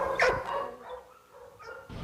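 Rescued homeless dogs from the Hurricane Katrina zone in Louisiana bark and whimper while being unloaded in Broward County, a few close barks early then softer yips amid background bustle.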